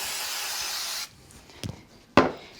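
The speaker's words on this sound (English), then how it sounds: "I'm going to go ahead and use a bit of spray glue on these." Spray glue hisses onto card pieces for a craft card in a steady, close, fairly quiet burst, followed by a few faint clicks and knocks of handling.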